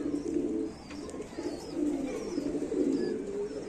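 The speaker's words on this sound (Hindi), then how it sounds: "ये कबूतरी है" Soft repeated cooing from a female Rampuri pigeon, low throaty coos in several rolling phrases, close by, with faint chirps in the background and no talk over it.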